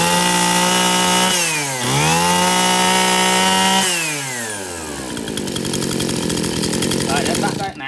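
A used chainsaw engine revs loud and close, its pitch sweeping up and down in strong harmonic bands, then settles into a rough, raspy idle that runs to the end.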